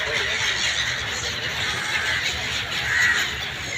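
A flock of gulls gathers noisily while being fed beside Al Seef Creek in Dubai, a dense continuous chorus of squealing calls and cries close by, with a faint voice underneath.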